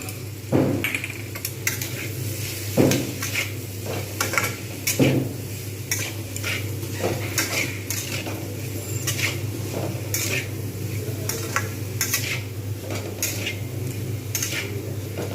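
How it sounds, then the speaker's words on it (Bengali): Potatoes with salt, chili powder and turmeric powder fry in a pan for a Bengali aloo posto, under a steady sizzle with repeated metal spatula scrapes and clacks against the pan, nearby and without talk. "এটাকে আমি ভেজে নেবো যাতে কাঁচা লঙ্কা এবার কাঁচা হলুদের গন্ধটা চলে যায়"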